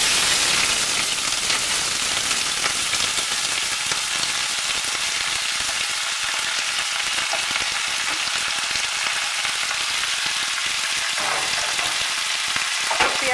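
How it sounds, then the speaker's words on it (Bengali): Onions frying in hot mustard oil in a kadai, a steady, loud, dense sizzle and crackle running unbroken throughout with no talk. "পেঁয়াজগুলোকে আমি একটু বাদামি করে ভাজবো"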